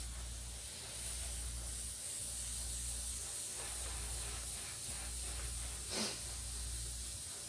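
An airbrush hisses steadily, spraying a dirty flesh-tone paint onto a plaster Jason Voorhees wall hanger, a soft continuous airy spray with slight swells and no talking.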